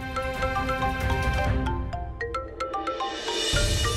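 A melodic phone ringtone plays a repeating electronic tune, clear and fairly close, looping for several seconds.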